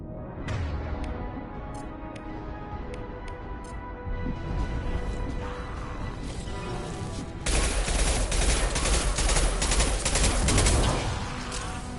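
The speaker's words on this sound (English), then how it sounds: "Taking heavy fire." Heavy sustained gunfire in the sci-fi shooter game Mass Effect 2, a dense rattling fusillade under a low mechanical hum that swells louder partway through.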